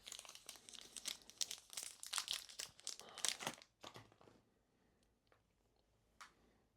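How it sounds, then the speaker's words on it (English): Close, crisp crinkling of a small plastic bag holding a DJI Osmo Action 4 camera for a few seconds, then fading to a few scattered rustles in near silence. "Comes in a small plastic bag"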